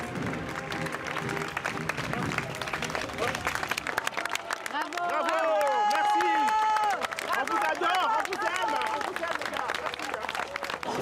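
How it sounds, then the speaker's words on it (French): Crowd cheering and applauding police officers marching in a parade, with steady clapping and whistles, lively shouts and voices mixed into the noisy street scene. "lui et ses collègues sont acclamés par la foule"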